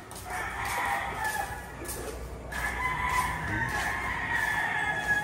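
Stag roosters at Kawit Arena, a cockfighting venue in Cavite, crow in drawn-out calls that overlap and repeat amid a steady background of arena noise, at moderate distance.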